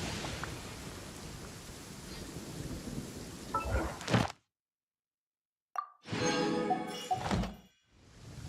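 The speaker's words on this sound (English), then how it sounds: "Taking a stroll in the middle of a downpour certainly rouses the spirit" Steady rain hisses for several seconds with a low rumble, then drops out to silence before a burst of thunder and rain returns, in the video game Genshin Impact.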